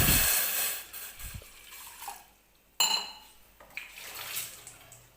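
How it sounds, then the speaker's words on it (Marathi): Water poured into a kitchen pot to begin rice kheer made with coarsely ground rice, with sharp clinks of metal pots and utensils, a splash and short trickles of liquid, faint and intermittent. "तर सुरुवातीला मी पाणी ओतून घेणार आहे."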